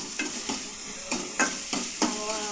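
Shallots, garlic and green chillies sautéing in a pan for a dhal tempering, with a continuous close sizzle and a regular series of about six spatula scrapes and stirs.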